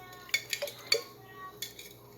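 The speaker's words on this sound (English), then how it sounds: "So what I'm going to do now is stir this up" A spoon clinks and scrapes against a container while stirring sugar into berry juice for a lacto-fermented soda, with a few quiet, irregular taps at close range.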